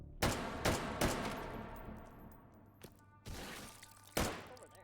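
Rifle shots in the VR shooter H3VR, five sharp single reports spaced unevenly over a few seconds, each with a short ringing tail, fairly quiet overall with no talking over them.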